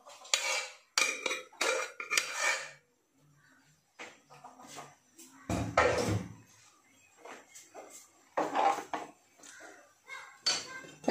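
A clay pot being set down and handled in a kitchen while making moru curry, with a series of close, sharp clinks and knocks in uneven bursts separated by brief quiet gaps.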